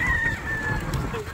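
Chickens clucking and calling nearby over a low rumble of background noise, with a thin steady whine running through the first half.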